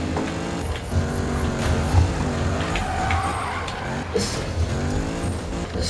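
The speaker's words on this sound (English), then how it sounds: "This is a pretty good drift car." A Ford Mustang GT drift car in the racing game Need for Speed 2015, its engine droning loudly with shifting revs and tires squealing, continuous and close throughout.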